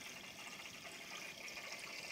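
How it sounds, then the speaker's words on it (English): A wave simulator agitates the water in a home aquarium, giving a constant soft wash and churn close to the mic with no other sounds. "water agitator, whatever you would call it, wave simulator, just sitting there producing a bit more activity in the water"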